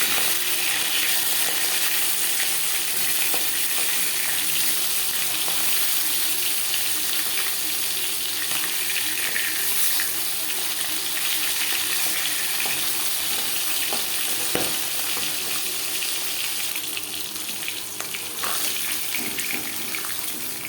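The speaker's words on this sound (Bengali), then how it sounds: "একটা সাইড ভাজা হয়ে গেলে অপর সাইড উল্টে দেবো" Chela fish frying in hot oil in a home kitchen, a steady, dense sizzle with crackling that continues unbroken at an even level throughout, with no voices.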